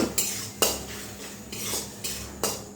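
Metal spoon scraping and knocking in a pan while onion is stirred and fried with chilli powder and turmeric, a few distinct clanks roughly every half second over a low background hum.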